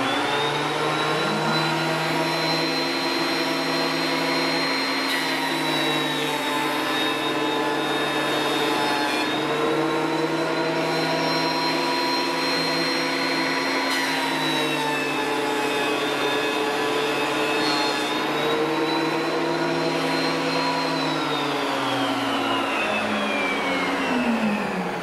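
A thickness planer feeds a board through with a loud, steady high-pitched whine and roar, its pitch dipping and recovering as the cut loads the motor, running continuously for the whole stretch without any voices.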